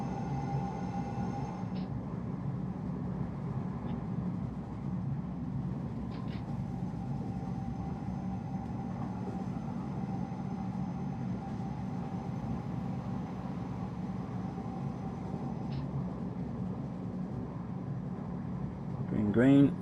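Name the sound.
S-Bahn train BR474Plus running in Train Simulator video game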